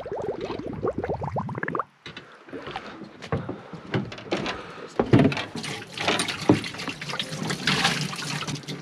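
Water from mineral water bottles gurgles and splashes into a fishing boat's live well, whose pump has failed, with glugging pours first and then louder, choppy splashing close by, and no talk over it.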